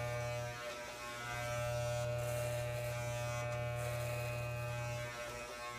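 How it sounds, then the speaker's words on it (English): An electric hair clipper with a comb guard hums loudly and steadily while cutting a man's hair during a fade, with slight changes in pitch as it moves through the hair. "you're just gonna let the comb of the clipper just work its way right through that and just keep a nice straight even line"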